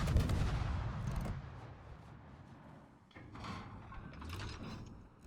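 Heavy ship guns fire in a naval warship battle game, a deep booming blast at the start that rolls off, followed by further muffled thuds and mechanical clanks at moderate distance.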